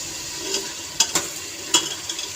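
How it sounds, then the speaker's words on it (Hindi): Potatoes fry in a pan with a continuous sizzle, broken by a few sharp scraping clicks of a utensil stirring them. "अब मैं 5 मिनट के लिए इनको फ्राई करूँगी अच्छे से"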